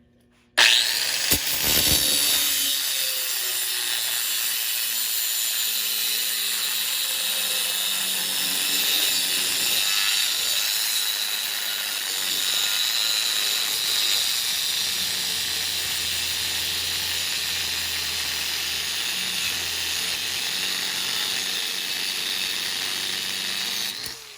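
A HYCHIKA 4.5-inch angle grinder spinning up with a sharp start and cutting steadily for over twenty seconds, producing a loud, continuous high-pitched whine and grinding hiss, close and without talk.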